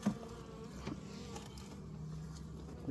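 Honey bees buzz at an open beehive during a frame inspection, a continuous low hum from many insects, close and steady, with no talking.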